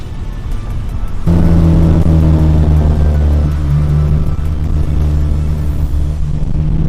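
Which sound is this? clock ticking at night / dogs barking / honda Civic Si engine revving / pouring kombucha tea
honda Civic Si engine revving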